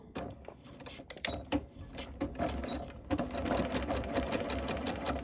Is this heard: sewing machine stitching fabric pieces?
yes